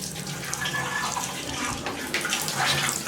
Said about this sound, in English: I ended up turning on every faucet hot water.